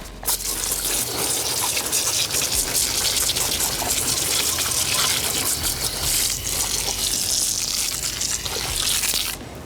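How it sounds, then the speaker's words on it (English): A pressure sprayer hisses and gushes steadily as it washes foam and dirt off a Polaris RZR, with spray spattering loudly and continuously on the vehicle up close. "Get our sprayer out here at the Green Star."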